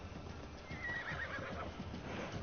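A horse neighs in the video game Assassin's Creed Valhalla, a short rising whinny over a low background rumble with faint hoof clatter.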